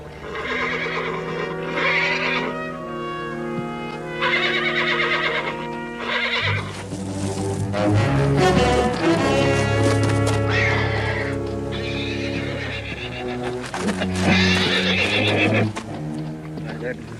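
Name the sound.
wild horse neighing and hooves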